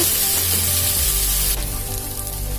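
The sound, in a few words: aval ragi dosa sizzling on the pan after flipping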